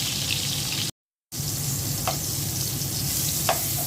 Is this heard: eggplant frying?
yes